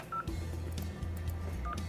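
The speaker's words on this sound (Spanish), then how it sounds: "vamos a marcar el número" Telephone keypad dialing an extension number, a series of short DTMF tones in quick succession, clear and close over a steady low hum, with no one speaking.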